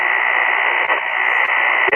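Amateur radio band static on a receiver, a steady loud hiss of band noise with a few faint clicks and crackles, no voice over it.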